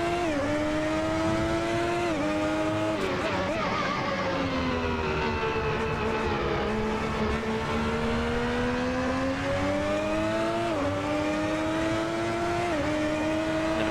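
A 1990 Ferrari 641 Formula 1 car in the Assetto Corsa racing game, engine screaming at high revs for the whole stretch with brief gear-shift dips and steady pitch rises, loud and continuous.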